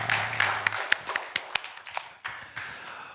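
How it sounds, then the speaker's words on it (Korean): A church congregation claps together during a Sunday sermon on Genesis, sharp overlapping hand claps landing in uneven bursts that thin out into scattered single claps, with a low hum briefly underneath at the start. "하나님께 영광의 박수 올려드리겠습니다."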